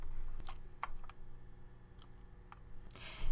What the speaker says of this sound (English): I'm going to search for Dr. Thomas Solicito's articles by typing in his last name